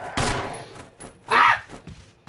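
Pistol shots in a shooter video game, a few sharp bursts spaced unevenly over a couple of seconds, loud and close with no talk over them.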